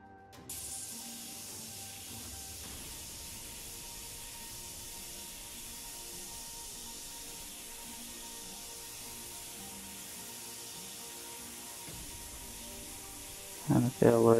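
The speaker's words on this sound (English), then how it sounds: "I'm just going to use just nothing but my airbrush on this" An airbrush sprays paint in one steady, continuous hiss that runs nearly unbroken for most of the stretch, with a few louder knocks and handling sounds near the end.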